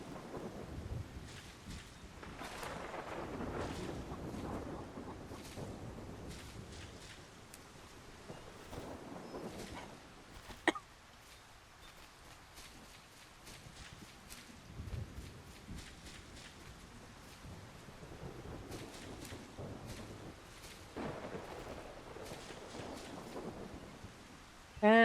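Thunderstorm and steady rain in the game Solarpunk, a continuous wash of rainfall with low rumbles of thunder rolling through and one sharp crack near the middle.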